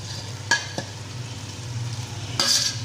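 Okra and red chilies sizzle steadily in a hot pan, with a few sharp scraping stirs of a utensil against the metal cutting through the constant frying hiss.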